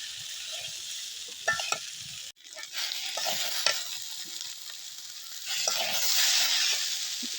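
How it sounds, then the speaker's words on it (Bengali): Curry being stir-fried in a pan, sizzling steadily with scraping stirring strokes, close and moderately loud, briefly interrupted then resuming louder. "তরকারি কষানো হচ্ছে, মাছ দেবেন।"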